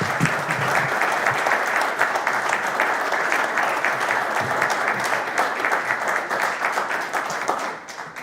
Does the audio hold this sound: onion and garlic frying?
no